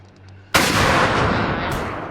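Gunfire in the mobile game Indian Bikes Driving 3D: a sudden loud blast after a quiet moment, followed by a sustained roaring burst of shots that stays loud for the rest of the moment.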